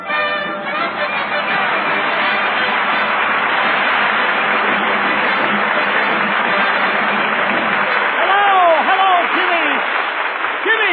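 A radio studio audience applauding Eddie Cantor, a dense, loud, sustained wash of clapping for the whole stretch, with a few faint whistles rising near the end.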